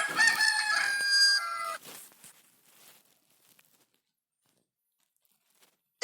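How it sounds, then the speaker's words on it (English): A rooster crows once, a loud close cock-a-doodle-doo lasting about two seconds, then trails off into near silence. "Rooster."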